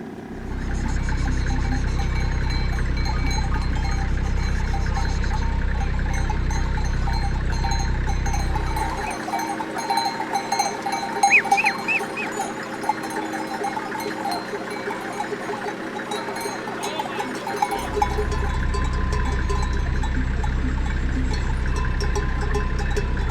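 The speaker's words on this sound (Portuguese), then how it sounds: "a estrada estava completamente bloqueada por pelo menos 200 ovelhas e cabras" A large flock of at least 200 sheep and goats blocks a road in Albania, with bells clinking and scattered bleats over a steady low engine hum that drops away midway and later returns.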